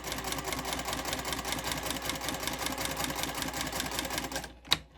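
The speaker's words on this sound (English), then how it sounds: "sew down each of the longer sides there with a 1/4 inch seam allowance. And we'll just do a back stitch and then carry on." Sewing machine stitching a quarter-inch seam on fabric, a fast steady mechanical chatter of rapid needle strokes running continuously close up, then stopping abruptly with a single sharp click at the end.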